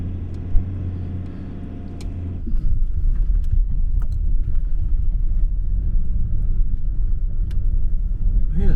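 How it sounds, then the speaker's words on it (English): A car passes on a rural road in the New England Tablelands of New South Wales, its low rumble rising and holding steady as it goes by close to the microphone, with no talking. "Here's a car."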